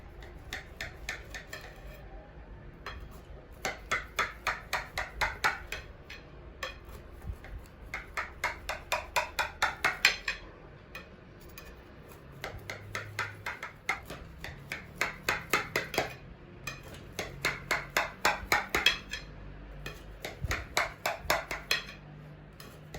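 A knife cuts through a moist cake in its tray, repeated bursts of quick scraping and tapping strokes against the pan, close and fairly quiet, with pauses between the runs of cuts.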